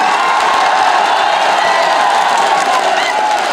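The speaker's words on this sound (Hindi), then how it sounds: "ताली मत बजाओ, मैंने बात खत्म नहीं की।" A large crowd at an outdoor political rally in Paratwada, Achalpur, claps and cheers in a loud, continuous, dense roar that holds steady throughout.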